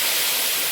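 Water hits a hot pan of frying fish curry with a loud, steady sizzling hiss filling the short moment, no voices.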